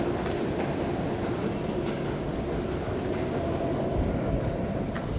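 A train rumbles steadily at close range, a continuous low roar with faint rail clatter, no voices.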